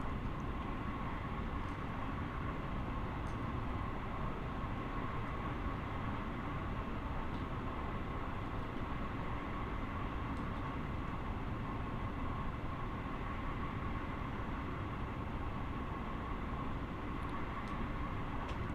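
Long Island Railroad commuter train in Train Sim World 2020 running steadily, a continuous rumbling roll with a faint tonal hum that stays even and unbroken throughout, no voices.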